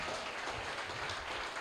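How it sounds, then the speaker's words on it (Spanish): A church congregation breaks into sustained applause, a dense, even wash of many hands clapping that fills the whole moment with no voices on top. "Denle un fuerte aplauso al Señor por estos hombres"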